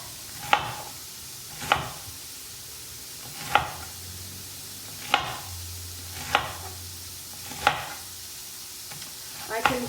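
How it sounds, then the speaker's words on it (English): Chopped onion sizzles softly in a pan of cabbage being cooked. A utensil scrapes through it in sharp, regular strokes about every second and a half, and there is no talking. "onion sizzling away, which is a good sign."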